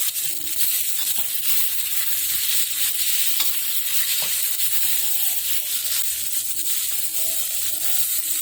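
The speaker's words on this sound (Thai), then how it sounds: "พอหอมแล้วก็เอาหมูสับลงไปผัดก่อนนะครับ ผัดให้หมูสุกครับ" Minced pork stir-fries in a hot pan, sizzling steadily while a utensil stirs and scrapes it around in a continuous, close, fairly loud rhythm.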